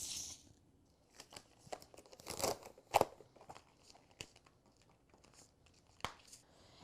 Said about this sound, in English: I am going to trim away the excess vinyl here using a true control knife